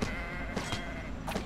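Sheep bleating in SkySaga, a Minecraft-like game, heard as a short, close, wavering bleat lasting about a second and a half, with no talking.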